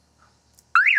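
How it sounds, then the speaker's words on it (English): A Honda Civic car alarm suddenly blares loud and close, a wavering electronic siren tone starting abruptly after near silence and sounding alone. "if you put this on, the alarm starts going off"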